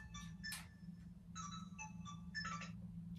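A telephone rings with repeated electronic ringtone bursts in a quiet room, several short trilling pulses over a low steady hum.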